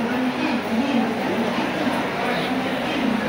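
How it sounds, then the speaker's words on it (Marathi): A passenger train bound for Goa stands at platform 13 in Mumbai, its steady low engine hum and rumble filling the station under a wash of crowd noise. "ही गोव्याला जाणारी ट्रेन आता लागलेली आहे।"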